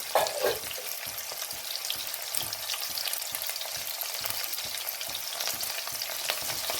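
Onions fry in a pan for mushroom pulao, a steady close sizzle with soft stirring scrapes.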